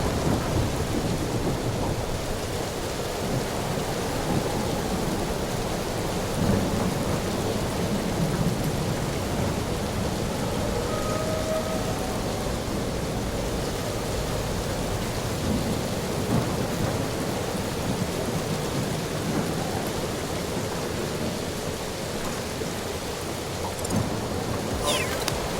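Steady, heavy rain with rolling thunder in the Marvel's Guardians of the Galaxy video game, a constant even downpour with low rumbles underneath and no talking.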